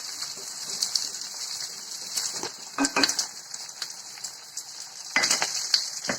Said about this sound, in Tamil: மிளகாய் நிறம் மாறுற அளவுக்கு வதக்கிக்கிறோம்